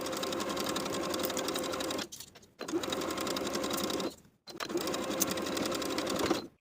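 Sewing machine edge stitching a pant leg hem on a jumpsuit, running in steady rapid bursts with two short pauses, close and loud with no talking.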